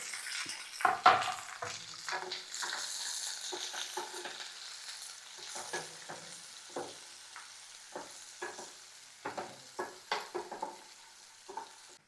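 Curry leaves, chopped onions and green chillies fry in a pan after dal, ahead of bitter gourd pieces. A soft, quiet sizzle runs throughout, with scattered spatula scrapes and light taps against the pan and no talk.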